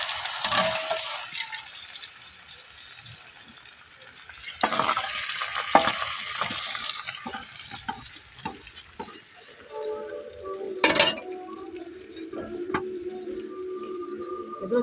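A tempering fries for an egg dal fry on a home stove, a moderate sizzle with intermittent stirring and clanks of utensils, fairly close amid light background household noise.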